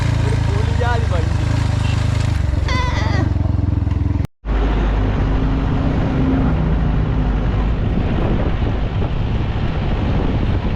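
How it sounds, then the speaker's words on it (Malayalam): A motorbike ridden on a trip up to a volcano, its engine droning steadily under heavy wind buffeting, with people talking over the first few seconds before a brief cut. "ഇവിടുന്ന് ഞാൻ ബൈക്ക് ഓടിക്കുകയാണ്."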